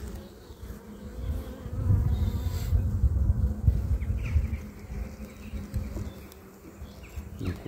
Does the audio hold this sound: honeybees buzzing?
yes